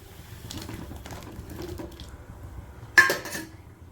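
Cut potato pieces tipped into a pot of boiling salted water: a low simmering bubble, then one quick splashy clatter as the pieces drop in, fading as the water settles.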